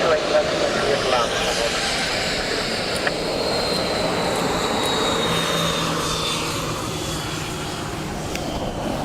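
Airplane landing on runway 28 left at Dublin Airport, a steady engine roar with a faint whine gliding downward, while a voice talks over it.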